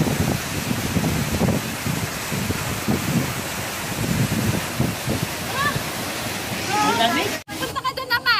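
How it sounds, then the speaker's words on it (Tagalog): Bomod-ok waterfall in Sagada, Mountain Province, roars as a broad, steady rush of falling water close by, with voices talking over it toward the end. "Tingnan nyo po mga kabayan ng talon."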